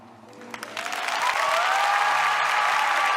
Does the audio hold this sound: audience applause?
yes